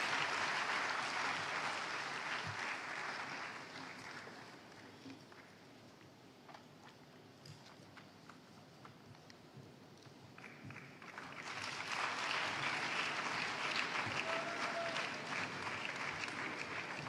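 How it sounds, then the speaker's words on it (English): Audience at a formal launch event applauds a dignitary's representative as he arrives, a soft, distant patter of clapping that dips in the middle and swells again toward the end. "A round of applause for him as he joins us."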